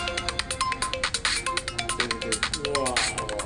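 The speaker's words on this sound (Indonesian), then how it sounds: "Ada telepon tuh, Pak." A phone ringtone plays in an incoming call, a bright repeating electronic melody pulsing steadily and fairly loud, with muffled talk faintly underneath.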